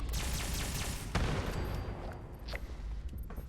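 Rapid automatic gunfire from a fast-shooting weapon in the video game Fallout 76, a dense, loud stream of shots rattling continuously with a few sharper bursts standing out, no talk over it.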